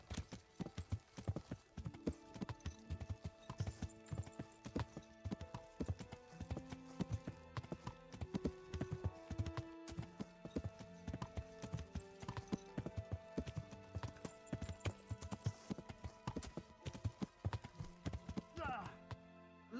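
Horse hooves clip-clop in a steady, continuous trot through Kingdom Come: Deliverance, mixed under a busy musical score and ambient game sound, with occasional voice underneath.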